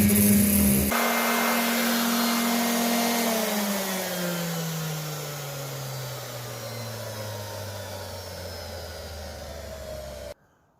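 A power sander works on fiberglass on a boat in a shop, giving a loud steady whirring drone that winds down in pitch as it slows, then cuts off abruptly.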